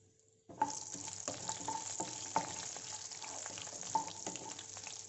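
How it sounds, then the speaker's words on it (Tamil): Onions drop into hot oil with fennel seeds and curry leaves for egg curry, setting off a sudden sizzle that keeps crackling softly, with faint stirring clicks from a utensil. "நமக்கு சோம்பும் கருவேப்பிலையும் நல்லா பொரிஞ்சிருச்சு. இப்போ வெங்காயம் ஆட் பண்ணிக்கலாம்."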